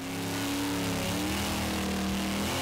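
A Chevy Camaro engine revs loud and close, a sustained throaty drone with steady harmonic tones that holds for nearly three seconds with no break.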